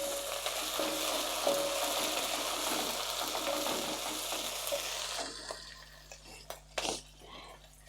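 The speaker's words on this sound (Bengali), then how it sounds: "দিচ্ছি মটরশুঁটি অল্প পরিমাণ, এটা তেলে ভালো করে ভেজে নেব।" Green peas frying in oil in a pan give a steady, close sizzle for about five seconds, then die down to quieter crackles with a few clinks and stirring knocks.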